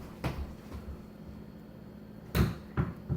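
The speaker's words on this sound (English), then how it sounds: "Somebody's about to knock on the door right now." Knocks on a door land as a few dull, low thuds, one single and then a closer pair later on, above a quiet room hum.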